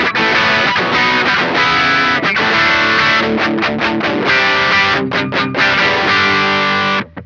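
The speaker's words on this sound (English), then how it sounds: "I can use my BB preamp to also get that mid-gain kind of sound" Electric guitar played through a BB preamp on a crunch channel with mid-gain overdrive, loud and continuous: chords and riffs with short stops between phrases, ending in a quick cutoff.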